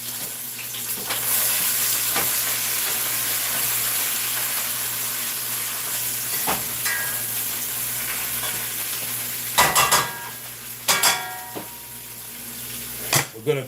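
Cabbage sizzles steadily in a hot pot throughout while being stirred, with a few sharper scraping knocks from the utensil toward the end; no talking.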